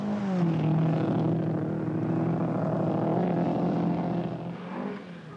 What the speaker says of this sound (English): Ford Escort is regrettably a sick machine from the start. He's being troubled by a persistent misfire.